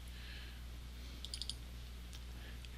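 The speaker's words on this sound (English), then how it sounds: "double click" A computer mouse double-clicks, a quick pair of tiny close clicks heard faintly over a steady low hum, with another faint click soon after.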